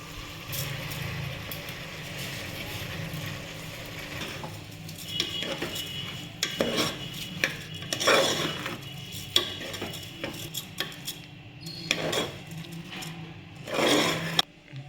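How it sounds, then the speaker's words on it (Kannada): Washed rice tipped into a pot for pulao, with scattered clinks and scrapes of metal utensils and cookware over a low, steady background. "ಇವಾಗ ಅಕ್ಕಿ ಹಾಕ್ತಿದ್ದೀನಿ ತೊಳೆದಿದ್ದೀನಿ ಚೆನ್ನಾಗಿ ತೊಳೆದ್ಬಿಟ್ಟು"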